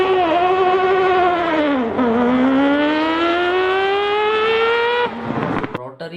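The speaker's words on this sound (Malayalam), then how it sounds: "ലോകത്തിലെ ഏറ്റവും വേഴ്സ്റ്റ് എഞ്ചിനായ റോട്ടറി എഞ്ചിൻ വെച്ച് 24 അവേഴ്സ് ലെമാൻ റേസിൽ ജയിച്ച ആദ്യ ജാപ്പനീസ് കാറാണ് മസ്ത" A Mazda 787B race car with a rotary engine screams loud and close, its high harmonic whine dipping and then climbing steadily through the gears before cutting off sharply near the end.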